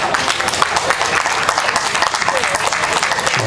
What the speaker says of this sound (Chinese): 请掌声鼓励，谢谢。